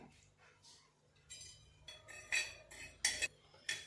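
Coriander seeds dry roasting on a hot tawa, with faint scraping and clinking of a spatula on metal in short strokes, quiet and close, with a low hum underneath.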